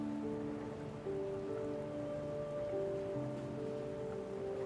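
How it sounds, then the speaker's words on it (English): Steady rain falls in an even, hissing wash that never lets up, with soft sustained music tones playing underneath. "It's raining."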